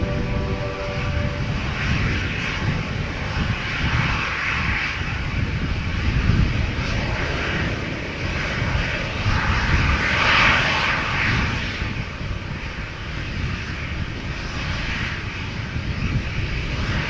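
A KLM airliner departs Amsterdam Schiphol Airport with a loud, steady jet engine roar that rumbles and swells on full power throughout, close up and continuous with no voices.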